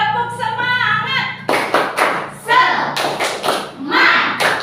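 A group claps a tepuk semangat chant in short, sharp bursts of hand claps and thuds in a rhythmic pattern, mixed with voices calling out together.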